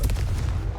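A single short, heavy boom of a Confringo fire curse blast in Hogwarts Legacy, loud and deep with a quick burst at the start that rumbles on briefly.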